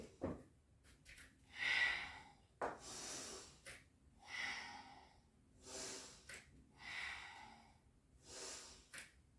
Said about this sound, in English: Inhale into your lunge, exhale into your Hanuman